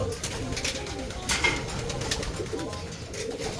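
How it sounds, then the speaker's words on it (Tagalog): A caught ringed racing pigeon at a loft coos close by over a steady background hum, with a few soft rustles. "nahuli na po natin yung ibon"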